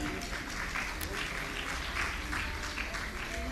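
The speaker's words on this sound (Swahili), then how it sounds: "Makofi mengi." Audience applause at a ceremony where gifts of Zanzibar cultural crafts are presented to Mozambique's President Daniel Francisco Chapo: steady, dense clapping from a large crowd that continues unbroken for the whole stretch.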